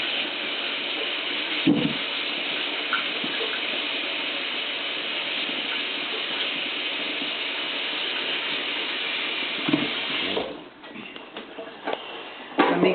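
Tap water runs in a steady hiss as potatoes are rinsed at a kitchen sink, with a few brief clunks and knocks of handling partway through before the flow cuts off and softer movements follow.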